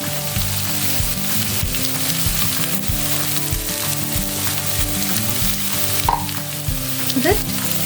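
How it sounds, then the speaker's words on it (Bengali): Pointed gourd frying in a pan with a splash of water added, a steady close sizzle and crackle running throughout, broken by the soft scrape and clink of stirring, with no talking. "এবার আমি এতে সামান্য জল দেব।"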